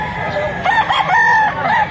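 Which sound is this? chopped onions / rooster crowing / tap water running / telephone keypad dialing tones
rooster crowing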